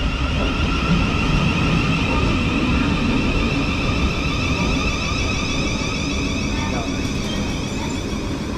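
A Thameslink Class 700 train at a West Sussex station gives a loud, steady rumble with a constant hum and whine over about eight seconds, with no clear break.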